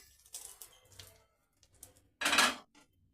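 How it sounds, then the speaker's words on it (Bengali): A spoon clinks and scrapes in a dish while mixing a green lentil salad, with a few light taps and one louder clattering scrape near the end. "এবার আমি চামচের সাহায্যে আবার ওপর নিচে করে মাখিয়ে নেব"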